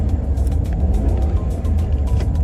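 A car engine runs with a loud, close, steady low rumble while the gears are tried on a slipping second-gear transmission, with no clear shifts or revving.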